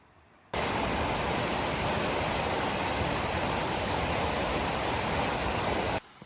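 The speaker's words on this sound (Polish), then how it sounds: "Idę na ten drugi wodospad." A waterfall in Iceland gives off a steady, dense roar of rushing water that starts and stops abruptly and stays constant and loud in between.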